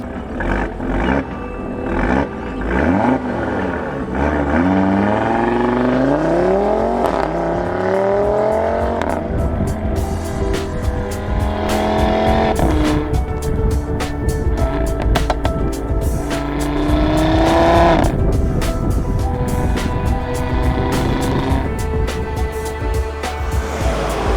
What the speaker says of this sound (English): There's no substitute to the 5-cylinder engine noise.